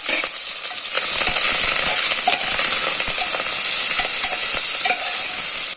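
Onions, green chilies and curry leaves frying in hot oil, a loud, continuous crackling sizzle with scattered sharper pops, steady throughout with no voices.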